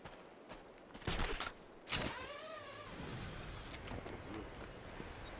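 Sniper rifle fire in Batman: Arkham Asylum, a couple of sharp cracking shots followed by a sweeping mechanical whine and scraping game effects, with a loud burst near the middle.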